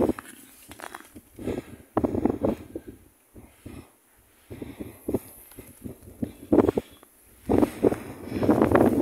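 Wind gusts during a late-March snowstorm beside a small river outside Moscow, rising and falling in buffeting bursts against the microphone with rustling and crunching steps, no speech.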